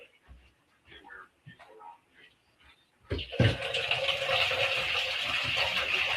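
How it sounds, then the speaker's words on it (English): Water poured from a tap into a pot of beans, a sudden loud gushing rush starting midway and continuing steadily, close up, after a stretch of quiet kitchen handling sounds and brief talk. "And now I'm going to put the water in it."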